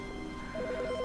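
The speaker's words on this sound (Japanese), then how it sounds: "また電話だ。" A telephone starts ringing in the video game The Stanley Parable, a short, rapid electronic trill that begins partway through over a steady background hum.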